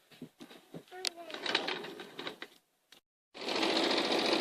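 A sewing machine runs with its pedal pushed while quilting, a loud steady mechanical whir filling the last second after a break, with a voice and other talk heard earlier.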